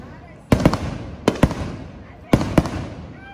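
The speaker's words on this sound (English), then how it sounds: "Casual fireworks." Fireworks go off in three clusters of sharp, crackling bangs, mostly in quick pairs, with light background chatter between the bursts.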